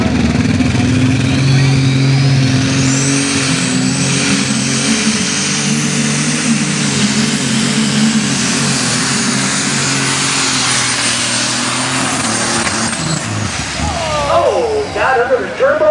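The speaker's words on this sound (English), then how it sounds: "Frank Keener on a John Deere Superstock running a Brett Long alcohol engine." A John Deere Super Stock pulling tractor with a Brett Long alcohol engine roars loudly and steadily at a tractor pull, its pitch climbing and holding before faltering near the end, under an announcer's voice.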